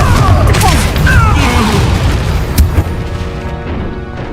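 A fiery Confringo blast spell from a video game goes off as a deep rumbling boom with crashing debris, followed by a sharp crack and a fading tail.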